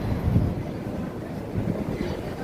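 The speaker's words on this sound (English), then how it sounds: "the wind's blowing so cold." Cold wind blows steadily along 42nd Street near Times Square in New York City, a continuous low rumbling gust noise that buffets the microphone, with faint street ambience and no talking.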